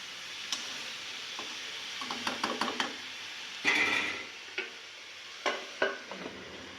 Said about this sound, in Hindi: देखो साइड से चला रही हूँ बस, बिल्कुल बीच से नहीं चलाना